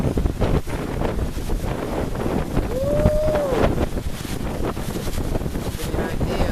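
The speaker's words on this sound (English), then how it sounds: "I feel like the winds are about 45, 50 miles per hour" Strong thunderstorm winds of roughly 45 to 50 mph roar and buffet a microphone outdoors, a loud continuous gusting rush with no break, and a brief tonal whistle rising and falling partway through.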